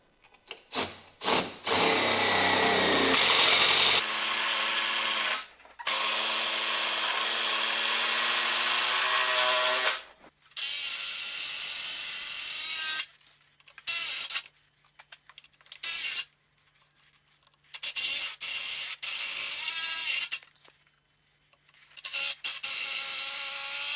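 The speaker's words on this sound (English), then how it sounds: "let me get it bolted in and see how that goes" A power drill drives bolts to mount a 36V lithium battery in an EZ GO TXT golf cart, with several long whirring runs broken by short pauses and brief stop-start bursts, loud and close.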